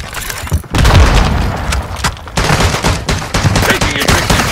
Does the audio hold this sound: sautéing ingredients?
no